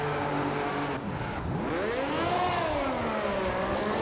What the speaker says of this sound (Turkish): Pit stop için pitteyiz. Yumuşak lastiklere geçeceğiz.